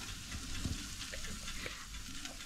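Fish fries on a village barbecue grill alongside chicken, giving a faint, steady sizzle with a soft crackle and a light scrape partway through, and no voices.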